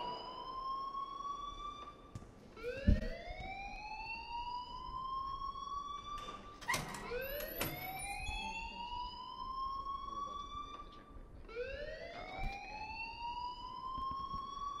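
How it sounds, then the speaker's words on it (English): A fire alarm in the video game Life is Strange wails in repeated rising sweeps, about four cycles, loud and continuous with occasional thumps and faint voices underneath. "please turn off that alarm since that's your job"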